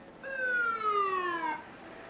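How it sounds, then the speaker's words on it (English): Ambulance siren passing near a NASCAR Winston Cup race track, a single falling wail that swells for about a second and a half before cutting off, over quiet background noise. "we had an ambulance come through here"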